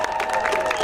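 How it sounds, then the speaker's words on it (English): A crowd claps and cheers briefly for the bronze medal men's lacrosse team at a tournament finals ceremony, a short burst of fairly faint applause with a voice faintly present in the mix. "So we gotta give them a round of applause for that alone."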